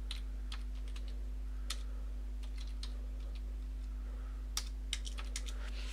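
Code being typed on a computer keyboard: scattered quick key clicks in small bursts, close and fairly quiet, over a steady low electrical hum with no speech.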